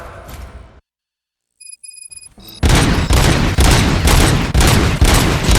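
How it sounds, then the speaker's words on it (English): Loud rapid bursts of gunfire from the video game Robocop Rogue City, starting after a brief quiet gap with some electronic beeps, then dense continuous shooting with rhythmic repeated volleys to the end. "Gunshots? What's going on?"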